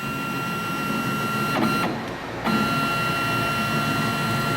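A CNC lathe carriage driven by stepper motors under Mach 3 control, moving for threading setup, gives a steady whirring drone with faint tonal whine, a brief dip midway before resuming at full level.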